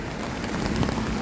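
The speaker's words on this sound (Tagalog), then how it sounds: "lumakas na yung ulan, guys" Heavy typhoon rain pours down in a dense, steady hiss of drops hitting surfaces, loud and unbroken for the whole short stretch with no voices.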